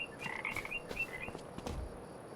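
A steady background chorus of frogs rises from a farm pond in Farming Simulator 25, with repeated croaks that overlap into a soft, continuous wash.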